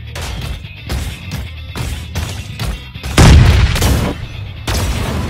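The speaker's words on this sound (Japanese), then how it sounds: "銃声が聞こえた。" Heavy, booming gunshots in the video game Super Mecha Champions fire in a rapid series, loud and close, with one especially large blast partway through and rumbling echoes between shots.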